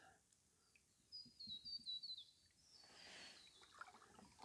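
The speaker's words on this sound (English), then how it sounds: "All the birds are starting to chirp." Birds chirp in the Noosa Everglades in the afternoon, a quiet scene with bursts of high, thin tweets and calls over soft trickling water, fairly distant and gentle, no talking.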